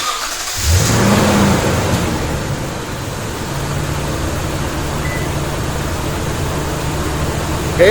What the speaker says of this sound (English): We're going to go ahead and we're going to trigger remote start.